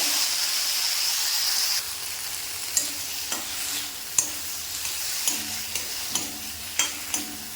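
Tomatoes sautéed in a hot pan for a Saravana Bhavan-style chutney, a steady sizzle and hiss broken by sharp clicks and scrapes of a spoon stirring against the pan.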